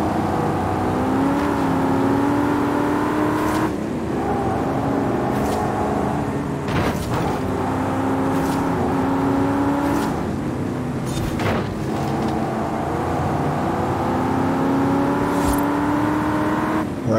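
Truck driving in Forza Horizon 5, its engine droning steadily and loudly with repeated rising revs and brief gear-shift breaks every few seconds throughout.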